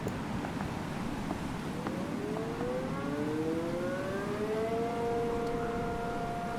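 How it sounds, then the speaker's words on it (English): A tornado siren in a video game slowly winds up in pitch, rising and sustained over a steady rushing background, fairly distant and even in loudness. "show you guys the tornado siren"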